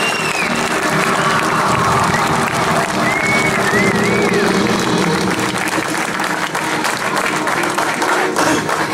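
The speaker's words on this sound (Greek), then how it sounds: "Και τους αξίζει πραγματικά χειροκρότημα." An audience at a Greek mayoral inauguration speech applauds steadily and loudly, a dense, continuous wash of many hands clapping with faint crowd murmur and a few cheers throughout.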